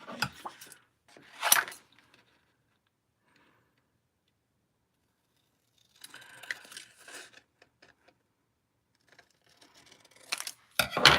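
Scissors trimming paper for a stamped card, a few short bursts of crisp snipping separated by long quiet pauses, close and without talk.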